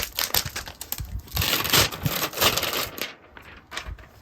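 A sheet of acetate being handled for card making crinkles and crackles loudly and close up in dense bursts, then quiets near the end.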